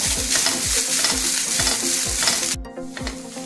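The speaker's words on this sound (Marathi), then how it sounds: "थोडं आपण एक 2-3 मिनिटं परतून घेऊया।" Grated coconut is sautéed in a pan for ukadiche modak filling. A spatula scrapes in a steady rhythm, about two strokes a second, over a constant close hiss that briefly cuts out near the end.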